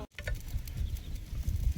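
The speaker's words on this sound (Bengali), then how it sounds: "এটা 5 মিশালি শাক ভাজা হয়ে যাচ্ছে তাহলে" Five mixed leafy greens fry in a pan with a close, crackling sizzle and soft stirring patter, fairly even across the short stretch and without any talk.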